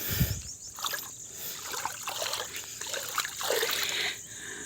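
Water in a forest pool near a village trickles and splashes in a series of close, uneven bursts, with light lapping sounds running throughout.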